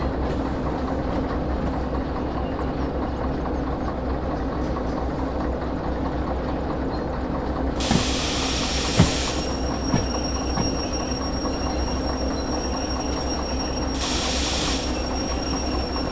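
A freight train in the Derail Valley simulator rolls steadily with a continuous low rumble, its wheels squealing in two high-pitched stretches and a few metallic clanks between.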